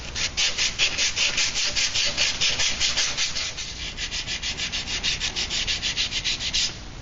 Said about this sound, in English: after just a few minutes of cleanup with the sanding cloth, you can see that the spring plate is now really clean